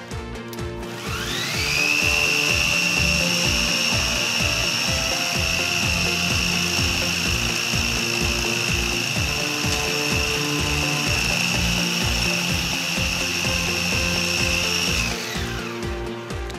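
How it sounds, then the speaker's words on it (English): A food mixer runs steadily with all the ingredients for chocolate energy balls inside, a loud, even motor whir with rhythmic churning that starts, holds for about fourteen seconds and winds down. "once we've got all the ingredients inside the food mixer"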